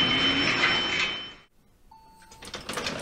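Elevator doors slide open in an audiobook scene: a steady whirring hum cuts off into near silence, then a single electronic chime sounds, followed by rising rattling and clattering as the doors part.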